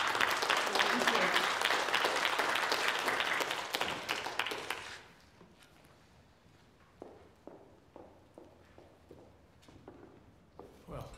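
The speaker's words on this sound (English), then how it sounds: "I want to offer another round of applause." Lecture audience applauding loudly and steadily for several seconds, then thinning out into scattered individual claps with a few voices as it dies away.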